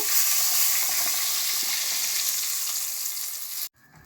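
Water poured into a pan of poa fish frying with mustard sets off a loud, dense, continuous hiss that holds steady for several seconds, then cuts off abruptly near the end.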